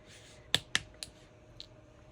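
Button shanks being snipped off the cover of a Little Golden Book, heard as two sharp close clicks of cutters in quick succession, followed by a softer click and a faint tick in a quiet room.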